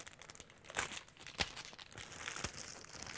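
Adhesive foam weatherstripping tape being handled for a door, soft close crinkling and peeling rustles with a few sharper crackles, faint and quiet, no talk.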